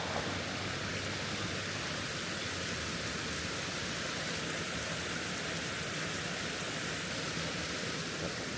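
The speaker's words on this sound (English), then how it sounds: "You can probably hear the water babbling in the background." Burbage Brook babbling along a woodland walking path, a steady, unbroken hiss of running water heard from nearby with no talking.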